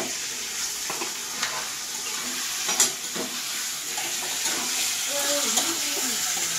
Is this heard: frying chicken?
yes